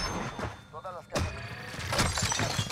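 A sudden crash of shattering glass in a video game cuts in partway through, followed by scattered debris and game noise, with voices faintly in the mix.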